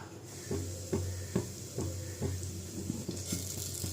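Fennel seeds frying in ghee and a little oil in a pan, a steady soft sizzle broken by regular clicking taps roughly every half second as the pan is stirred.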